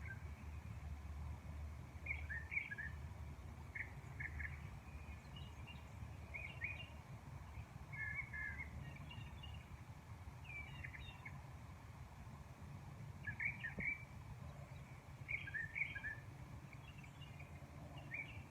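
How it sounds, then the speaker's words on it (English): Pet birds chirp indoors in the morning, short, faint tweets repeating every second or two over a steady low hum. "It seems like every time they hear the beep of the camera, they quit chirping."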